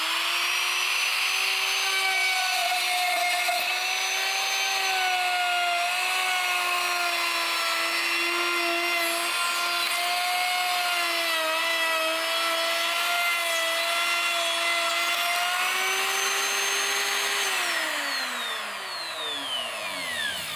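A handheld power tool plunged into wood to cut holes for a cucoloris whines steadily and loudly throughout, its pitch dipping and rising slightly as it is pushed through the board, then winding down at the end.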